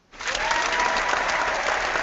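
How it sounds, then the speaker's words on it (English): A Google Hangout applause sound effect bursts in suddenly as a full, steady crowd applause and holds at an even level for about two seconds. "Just to show you, I can give applause"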